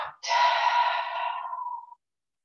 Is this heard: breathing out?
yes